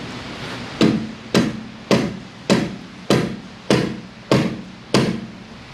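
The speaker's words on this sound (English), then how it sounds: "what you can do is use the back of the hammer because it's softer" Hammer knocking a ball joint on a Ford EcoSport steering knuckle, nine sharp metallic strikes at an even, slow rhythm, each ringing briefly, close and loud with no talking.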